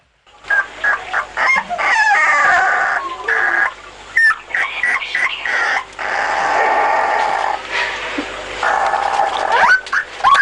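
Thirteen weak, underfed rescued dogs, ten of them puppies, yelp, whine and bark almost nonstop in a dense, overlapping chorus, loud and close, with brief gaps and a crowing, clucking quality to some of the high-pitched cries.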